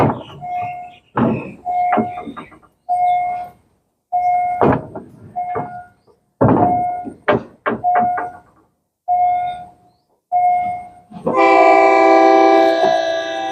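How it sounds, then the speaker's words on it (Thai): A train approaches a level crossing on Bang Khun Thian Road in Bangkok, with repeated horn blasts, short tones broken by gaps, and a loud sustained blast near the end as it draws close. "รถไฟกำลังมา"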